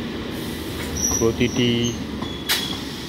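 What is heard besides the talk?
Naihati-Bandel local train entering Hooghly Ghat station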